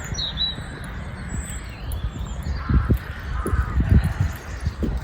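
Birds call outdoors over a low rumble, a mix of chirps and caw-like cries that grows a little busier toward the end.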